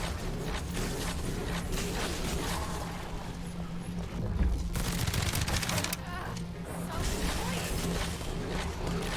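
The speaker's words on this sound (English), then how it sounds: "These orbs can be destroyed by me shooting them" Rapid continuous gunfire from a player shooting at orbs in the game The First Descendant, steady bursts running through the whole stretch with a heavier thump midway, dense and close.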